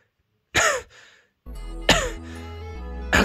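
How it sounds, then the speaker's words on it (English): A few harsh cough and throat-clearing bursts, one short hack followed after a pause by a longer, rougher cough with a second sharp burst, close and loud with no talking. "Don't cough on me."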